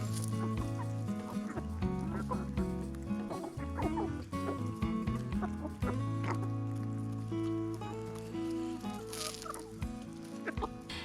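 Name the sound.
hens clucking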